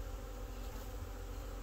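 Honey bee swarm high up in a tree, a steady dense buzzing drone of many bees, continuous and moderately quiet with no voices.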